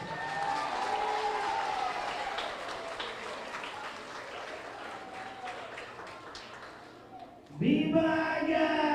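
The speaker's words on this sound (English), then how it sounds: "Let's give each other a big round of applause." Kids and parents at a Giving Tuesday toy drive in Guam give a round of applause, a spread of clapping and crowd noise that fades over several seconds before a loud voice cuts in near the end.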